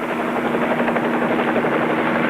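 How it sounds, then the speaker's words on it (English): A steady, throbbing helicopter rotor drone with a constant hum, continuous and fairly loud throughout the short stretch. "I want you to land the copter somewhere near the wreck, but out of sight."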